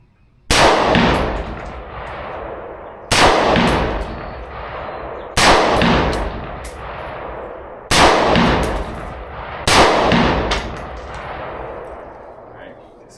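At a shooting range, five loud gunshots ring out at a slow, even pace, each followed by a metallic clang and a long echo, like rounds striking steel targets.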